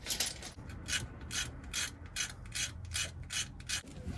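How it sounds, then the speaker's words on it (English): A blade scrapes a part from the engine of a Land Rover Series 2.25 TDI in about ten rhythmic rasping strokes, close and fairly quiet, each a short gritty burst. "I might just get a blade and give that a little scrape up"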